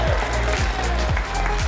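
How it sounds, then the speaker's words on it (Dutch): Crowd applause for cyclist Tim Wellens at an Eneco Tour cycling race ceremony, with steady clapping and a broad rush of noise, continuous throughout, amid a busy outdoor atmosphere. "Applaus voor Tim Wellens."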